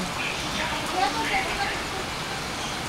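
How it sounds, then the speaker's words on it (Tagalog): Heavy rain pours steadily in the Philippine provinces, a dense continuous hiss with no breaks, fairly loud and close. "Kaya lang, ang lakas ng ulan."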